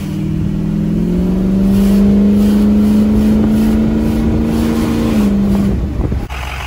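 An old farm truck, left parked for months with mouse nests inside, idles steadily with a low droning engine note and a slight rise in pitch, then the tone drops and cuts near the end, close and loud.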